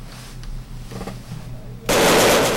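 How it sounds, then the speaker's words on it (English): Gunfire amid fierce street fighting in Benghazi, Libya, starting as a muffled, distant crackle and then bursting into a loud, dense roar of shots that fills the final half second. "Gunshots and fierce fighting."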